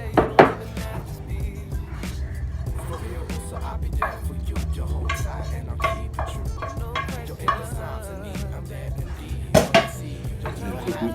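Food being tossed together in a bowl for a fish dish, with utensils clinking and scraping against the bowl in steady, fairly close bursts and a couple of sharper knocks, no talking.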